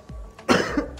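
A man with a cold and sore throat gives a short, harsh cough: two or three close, loud bursts in about a second, with no talking.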